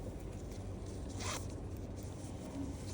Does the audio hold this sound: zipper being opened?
yes